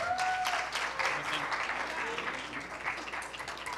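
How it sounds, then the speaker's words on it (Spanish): Applause from a conference audience at a Forbes business talk on innovation and corporate venturing in Latin America, fairly faint and scattered, with some voices mixed in. "un aplauso por favor para ellos"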